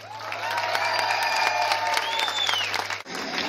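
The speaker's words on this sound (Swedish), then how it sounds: "Ge honom en varm applåd." Outdoor crowd at a Stockholm protest demonstration clapping and cheering warmly for a singer, steady applause with a few whistles before it cuts off abruptly near the end.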